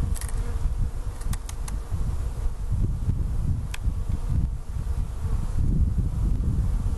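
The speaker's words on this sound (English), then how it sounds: "we've got bees coming and going through this hole" Honeybees buzzing at a hive entrance in a tree or structure, foragers coming and going through a hole; a steady low drone close by with faint wind-like rustle and a few brief higher ticks.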